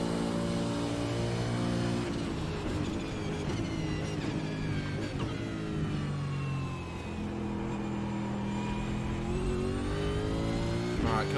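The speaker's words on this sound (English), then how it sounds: "I think this is my favorite car in iRacing at the moment" A Supercars race car in the iRacing simulator roars around Road America, its engine droning steadily and loud throughout, with the pitch rising and falling through gear changes and a brief dip partway.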